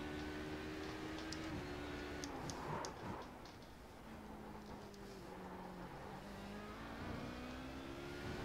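An LMP2 prototype race car in iRacing at Imola downshifts to third. The engine drone steps down in pitch as the gears drop, with clicks from the shifts, and the engine holds steady and close throughout.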